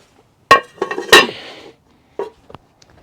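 Metal smoker deflector parts being set back into a hot grill during a beef tenderloin cook: two sharp metallic clanks followed by a short rattling scrape, then a few lighter taps and clinks, close and loud with no talking.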